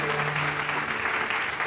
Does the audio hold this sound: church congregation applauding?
yes